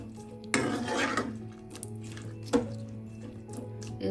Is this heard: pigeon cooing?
no